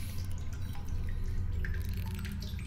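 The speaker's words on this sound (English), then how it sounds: "Let's go to that free water source so I can rehydrate." Water dripping and trickling from a free water source in the video game The Solus Project, a faint steady patter of drops in a dank cave setting with no talking.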